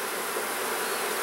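Honey bees buzz steadily around a beehive while two nucs are installed, a dense, continuous hum close by with no talk over it.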